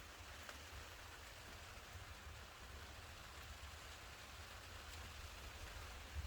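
Rain falls steadily in a May garden near a rabbits' shelter, a soft continuous hiss of drops with no pauses, faint and even throughout.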